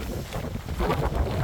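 Strong wind roars across an open farm with vinyl-covered structures, a dense, gusty rush buffeting the microphone continuously and rising slightly toward the end.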